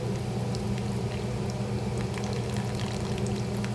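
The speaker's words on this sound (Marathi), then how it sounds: "आता चिंच भिजत घातली होती त्या चिंचेचं पाणी घालते याच्यामध्ये" Tamarind water pours into a pot of cooked potato and karandi curry with a soft, continuous splashing hiss, fairly quiet and close, with no talking.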